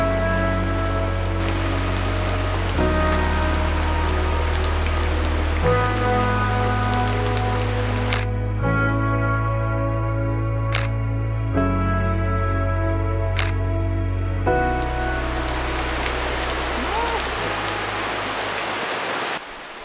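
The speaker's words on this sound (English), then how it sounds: "this place is even more charming when it's raining" Steady rain falling in Ubud, Bali, a continuous close wash of drops on surfaces with a few sharp, evenly spaced clicks partway through.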